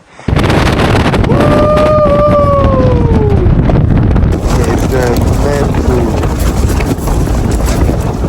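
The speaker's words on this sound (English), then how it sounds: "Wind is insane." Strong wind buffets the microphone at an exposed UK camping spot in brutal winds, a loud continuous roar with gusting swells. A person speaks briefly over it.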